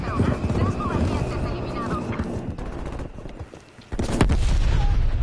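Strafing-run machine gun fire and explosions in Call of Duty Cold War, a dense continuous barrage with a heavy blast near the end, loud and mixed with game voices and chatter.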